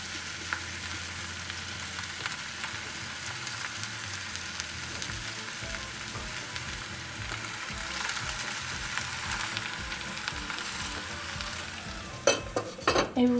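Cheese for a tartiflette melting in a frying pan over lowered heat, with a soft, continuous sizzle and repeated stirring scrapes, ending in a few louder clanks of a utensil against the pan.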